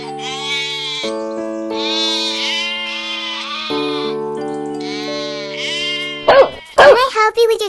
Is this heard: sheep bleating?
yes